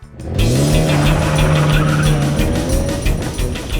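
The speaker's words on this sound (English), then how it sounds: "And now they're taking their new car for a test drive." A 1962 MG Healey Midget, an old competition car, revs hard out on a test drive, with a loud engine note rising in pitch and tires squealing, and no voices over it.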